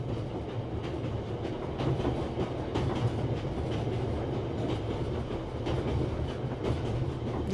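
A train rolling along rails, with a steady close rumble and rhythmic clatter of wheels that continues unbroken throughout, with no voices.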